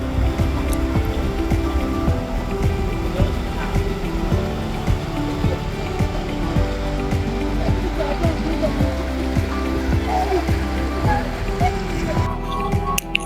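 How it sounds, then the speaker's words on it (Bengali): Sea waves at Blue Lagoon beach in Malaysia, a continuous rolling wash of surf with low rumble, heard up close with faint voices in the background. "জলের ঢেউগুলো খুবই সুন্দর লাগছে"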